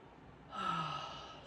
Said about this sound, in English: I'm gonna take 3 big breaths in the nose.